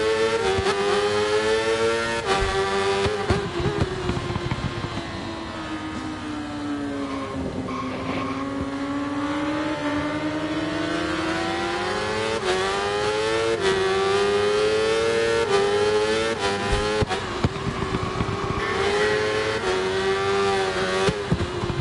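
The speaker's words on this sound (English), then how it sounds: "So the two MLD Kawasaki boys are giving each other a tow on track." Two MLD Kawasaki racing motorcycles at a Kyalami pre-season track test, engines howling and rising and falling in pitch through gear changes, loud and continuous throughout.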